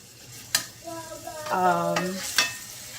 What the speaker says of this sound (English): So usually when I saute these, I keep them at medium heat